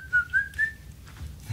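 A person whistles a short tune, a few clear rising and falling notes that stop partway, heard up close over a low background hum.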